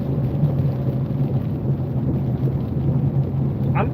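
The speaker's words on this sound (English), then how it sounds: "Yeah, it's still really raining." Heavy rain pounds steadily around a truck cab, a dense continuous wash with a low rumbling undertone, loud and close throughout with no voices.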